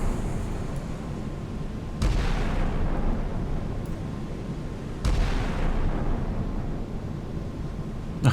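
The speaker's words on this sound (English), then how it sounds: "I love seeing stuff exploding in the distance, looks really cool." Distant explosions rumble in the naval video game Sea Power during a Strait of Hormuz scenario, with two heavier booming onsets over a continuous low roar of battle; no voices.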